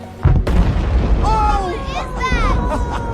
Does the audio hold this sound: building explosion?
yes